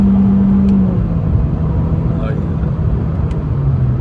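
Engine of a 2020 Honda Civic Sport climbing toward redline in fourth gear, a loud steady drone that holds then eases slightly, with a brief voice heard over it.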